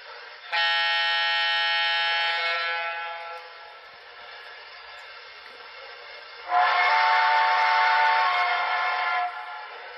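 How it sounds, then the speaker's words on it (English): Steam whistle and air horn on a Broadway Limited Southern Pacific GS-4 model locomotive with DCC sound: a long harmonic whistle blast that fades, a pause of quiet hum, then a louder, brighter horn blast held for about three seconds. "So there you go, both the whistle and the air horn."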